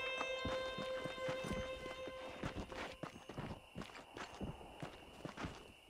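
In the Red Dead Redemption video game, a horse's hooves clip-clop along at a steady walk, quickening in rhythm. The hoofbeats sound fairly close over a background of sustained music tones.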